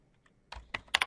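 A few crisp computer keyboard keystrokes, including a heavier space bar press, clack close by in a quiet room with no talk, the clicks arriving in a quick uneven cluster.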